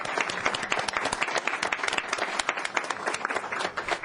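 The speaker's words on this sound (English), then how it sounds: "Maybe we can give them a round of applause." Audience at a Council on Aging community talk gives a round of applause for the speakers, a dense patter of many hands clapping steadily at moderate distance for about four seconds.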